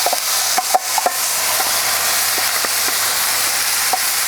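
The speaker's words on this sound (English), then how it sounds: "Get a nice stir." Satay sauce is stirred into prawns, onions and peppers frying on a Kamado Joe grill, with a constant loud sizzle broken by scattered scraping knocks from the utensil.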